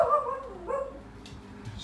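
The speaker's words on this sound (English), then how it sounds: "excuse the dogs, as always" Dogs bark and whimper indoors in a cleared-out room being turned into an indoor koi pond, a short burst of yips and barks at moderate distance with no talking.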